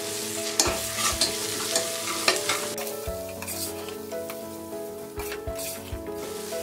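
Spices frying with salt and ginger garlic paste for Punjabi rajma masala, a steady close sizzle with intermittent scraping and stirring knocks in the pan, no voices.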